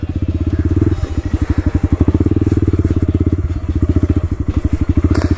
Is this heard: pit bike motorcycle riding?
yes